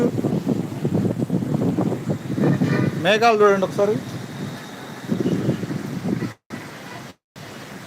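Strong gale wind roars steadily into the microphone during a thunderstorm in Guntur while a person talks over it.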